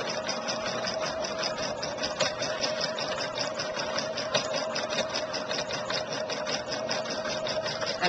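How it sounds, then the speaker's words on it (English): A Viking embroidery sewing machine runs continuously with a rapid, even needle chatter and a steady whirring motor tone, close and alone, with no talking. "this machine is compatible with most of Viking's other hoops"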